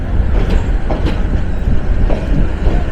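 The Titas Commuter 35 train runs near Brahmanbaria, heard from its roof as a loud, continuous rumble with faint rhythmic rattling and wheel noise throughout.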